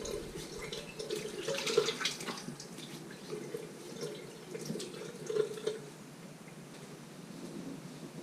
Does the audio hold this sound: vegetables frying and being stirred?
no